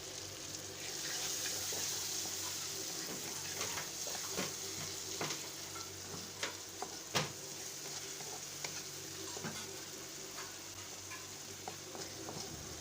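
Chopped liver pieces with chopped tomatoes for kata kat kaleji fry in a pan, a soft steady sizzle with occasional scrapes and taps of a stirring utensil.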